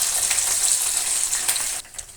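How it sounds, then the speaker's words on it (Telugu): Tempering spices sizzle in hot oil in a kadai, a bright, continuous crackling fry that holds steady for nearly two seconds before abruptly quieting. "ఇప్పుడు మనము తాలింపు దినుసులన్నీ ఇవన్నీ ఆయిల్లో"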